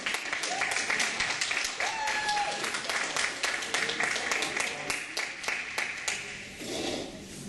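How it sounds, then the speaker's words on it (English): An audience at an induction event claps and applauds steadily as a poet is welcomed onto the stage, with dense continuous clapping, a few cheers and voices mixed in, fading slightly toward the end. "Let's give a round of applause"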